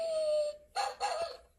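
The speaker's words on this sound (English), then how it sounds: "I heard the sound of the dog." Two short dog barks in quick succession, close and moderately loud, following a steady electronic tone.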